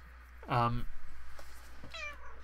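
A drawn-out meow at close range, then a second shorter, higher meow about a second later, over faint background hum.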